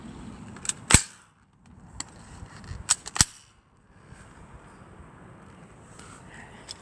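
Airsoft gun firing outdoors at a leaf, a few sharp snapping shots in a quick scattered series of about five, fairly close over quiet background noise, with no talk.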